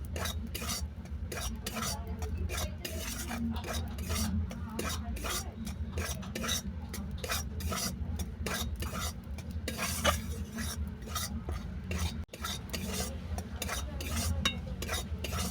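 Dry flour being stirred in a pan as it roasts for puri filling, a steady scraping and rubbing of spoon against the pan bottom repeating in quick regular strokes, close and continuous with no talk.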